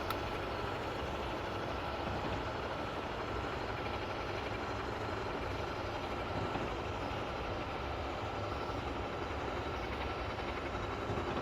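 Trains rumble past in a Northeast Corridor train simulator game, forming a steady, broad rail roar that holds at an even level throughout with no speech.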